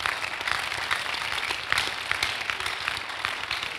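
A church congregation claps and cheers in a sustained, dense round of applause, steady and fairly loud throughout.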